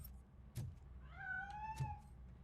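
A cat in the video game Robocop: Rogue City gives a soft, drawn-out meow with a few faint clicks and bumps around it, fairly quiet.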